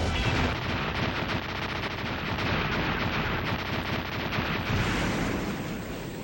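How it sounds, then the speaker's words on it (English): Blade Armor Giga attack in Mega Man X6, a dense, loud burst of rapid crackling and booming blasts that rolls on without pause for several seconds, like sustained video game gunfire and explosions. "this is the Blade Armor's Giga attack"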